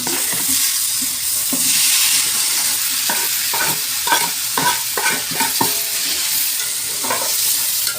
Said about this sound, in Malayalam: തക്കാളി കരിഞ്ഞ് റെഡിയാക്കി ഉള്ളിയൊക്കെ ഇങ്ങനെ വാടിക്കൊണ്ടിരിക്കുകയാണ്.